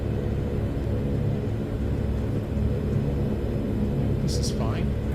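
A Saab 340A twin-turboprop taxiing to park at an airport in X-Plane 11, heard as a steady low engine rumble and whir that continues unbroken, with voices talking over it.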